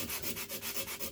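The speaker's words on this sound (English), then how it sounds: "while I was hand sanding" A chef knife is hand sanded in quick, even back-and-forth strokes, a close, rhythmic raspy scrub repeating about eight times with no talk.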